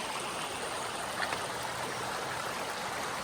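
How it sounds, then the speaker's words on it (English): Small creek flowing along a hiking trail, a steady broadband rush of water with a faint trickle, close and continuous throughout with no voices. "yeah, it's a nice little creek"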